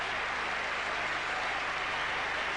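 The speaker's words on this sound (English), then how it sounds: "Listen to the crowds cheering for the top 3 of this German Grand Prix." A large crowd at the German Grand Prix podium cheers and applauds the top three finishers, a dense, steady wash of distant clapping and noise.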